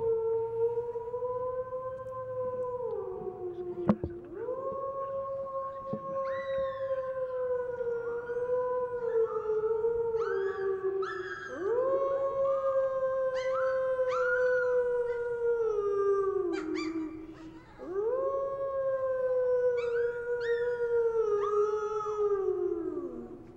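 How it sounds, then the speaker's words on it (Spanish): Long, tonal howls are played back during a lecture on empathy. Several overlapping voices rise and fall in a wavering chorus, repeating in waves over a faint background hum. "la mejor manera de empezar es con un sonido así, como un aullido."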